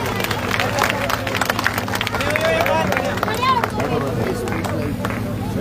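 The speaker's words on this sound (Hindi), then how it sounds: "आइए जोरदार तालियां गोपाल जी की" Applause and cheering from a crowd at a village public meeting for Gopal, a steady dense wash of claps and voices with background chatter and a low hum throughout.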